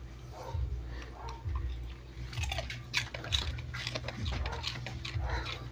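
A pet rabbit crunchily chewing fresh pechay leaves close up, a steady run of small crisp bites repeating throughout with a low rumble underneath.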